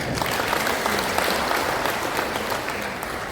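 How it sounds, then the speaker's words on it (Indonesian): An audience claps at a Nyepi 2025 Hindu community gathering in Papua, a dense, sustained applause that stays steady and loud from start to end, with no one speaking over it. "Tepuk tangan dulu kan."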